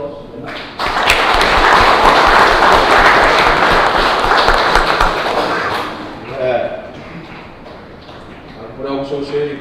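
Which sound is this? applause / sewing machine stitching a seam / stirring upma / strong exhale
applause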